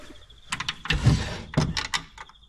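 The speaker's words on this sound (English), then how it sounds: "drawer works. I had to repair the little blocks that this kind of slides on. Doesn't slide very well." A wooden drawer in a pre-war Riley Brooklands slides on repaired runner blocks, giving a few close, scraping pulls and knocks that stop and start.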